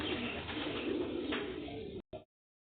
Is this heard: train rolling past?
no